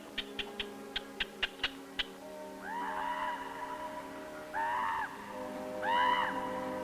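Harsh, throaty calls of a raven repeat three times in open wilderness, preceded by a rapid series of short clicking knocks.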